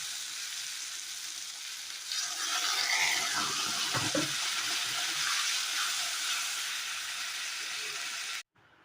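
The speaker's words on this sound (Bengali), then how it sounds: "এবার জল দিয়ে দেবো।" Water pours into a pan of fried fish curry base, a broad hissing sizzle that swells and settles over several seconds before cutting off abruptly.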